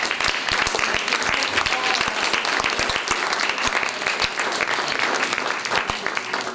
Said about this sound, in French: je pense qu'on peut encore les applaudir très très fort